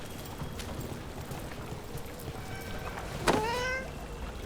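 In the video game Dragon Age: The Veilguard, a cat gives a single clear meow over a low ambient background.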